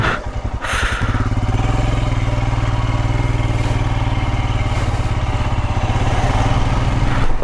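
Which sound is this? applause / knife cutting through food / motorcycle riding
motorcycle riding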